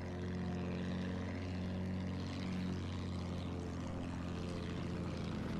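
A propeller airplane in Battlefield 1 drones steadily and fairly quietly, a constant engine hum with no voices.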